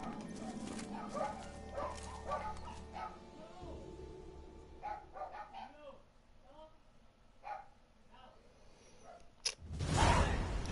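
Household dogs bark and yip in short, irregular bursts, mixed with a voice and game audio from a Witcher 3 play session, ending in a loud swooshing rush.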